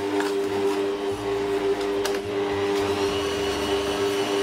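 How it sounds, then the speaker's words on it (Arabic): An electric mixer whirs steadily at close range, beating softened butter with sugar, its motor hum fluctuating slightly as the beaters work through the mixture. "نحركوهم مليح حتى هذاك الزبده مع السكر يدخل مليح مليح، ما لازمش الزبده تبان"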